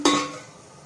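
One sharp metallic clink as a lid settles onto a pot of frying vegetables for khichdi, followed by a brief ringing tone that quickly dies away.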